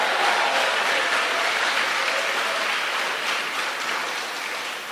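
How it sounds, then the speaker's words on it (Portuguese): A church congregation applauds and cheers at an evening worship service, with loud, dense, steady clapping that holds strong across the whole stretch and eases slightly near the end. "Dê um aplauso a Ele nessa noite"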